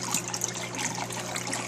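Water trickles steadily through a drain line, a soft continuous flow with faint splashy detail, quiet and close with no talking.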